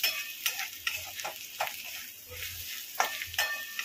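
Dal and onion masala fries in a pan, with a steady low sizzle broken by repeated sharp spatula scrapes and stirring clinks spaced through the clip.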